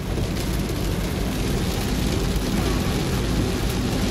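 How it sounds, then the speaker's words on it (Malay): Heavy rain pours on a car driving through Shah Alam during Ramadan, a steady, dense wash of noise that stays loud and unbroken throughout. "Hujan sangat lebat di Shah Alam."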